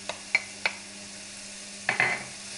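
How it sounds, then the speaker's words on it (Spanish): Sliced mushrooms drop into hot oil in a pan, with a low steady sizzle and a few sharp clinks and taps from stirring, scattered across a short stretch. "Pues ya tenemos aceite caliente, así que vamos a echar el champiñón"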